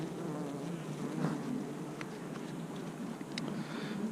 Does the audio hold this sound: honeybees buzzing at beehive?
yes